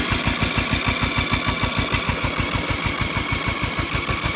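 A broken lawnmower's small engine runs with a steady, rapid thumping putter, loud and close, holding an even idle rhythm throughout without any talking.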